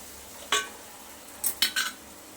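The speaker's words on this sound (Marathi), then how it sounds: "हे सगळं मिक्स करून घेऊया एक दोन मिनिट सगळं कांद्यासोबत परतून घेऊयात" Soya chunks stirred with onions in a pan, a utensil clinking sharply against the metal four times, one isolated knock then a quick cluster of three, over a faint background hiss.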